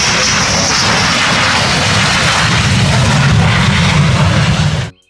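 A continuous whooshing jet engine roar from a toy jet airplane, steady and loud, cutting off abruptly at the end.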